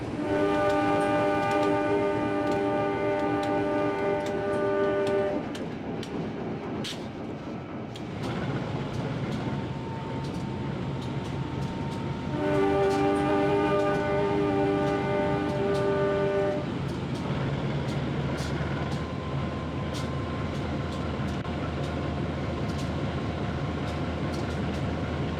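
Train horn from the Matarmaja passenger train in Trainz Simulator, sounding two long, loud sustained blasts over the steady rumble of the running train.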